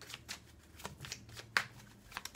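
Oracle cards shuffled by hand for a tarot reading, giving quiet, close riffling bursts with soft slaps repeating over a couple of seconds.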